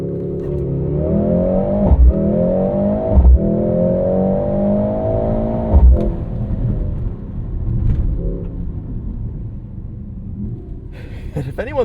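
A 2025 Mercedes-AMG GLC 63 S E Performance, a four-cylinder hybrid, making a launch-control race start. The engine revs and rises in pitch through several upshifts, loud and close inside the cabin, with a voice talking over it.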